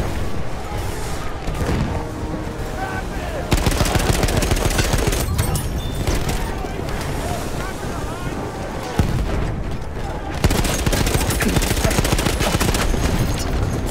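Continuous loud battle din in Battlefield 1 multiplayer, with booming rocket fire and explosions layered over steady gunfire, giving a dense, roaring wall of combat noise with a few sharper blasts.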